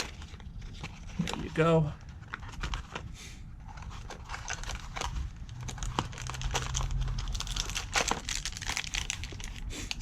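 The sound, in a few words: opening the plastic packaging of a TPMS sensor kit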